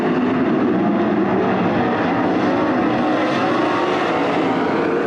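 A pack of 410 sprint cars roars into turns one and two at Attica Raceway Park during the A-Main, a loud, steady wall of engine noise with no breaks.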